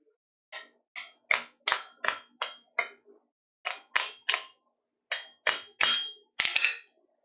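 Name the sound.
knocking slag off forged metal pieces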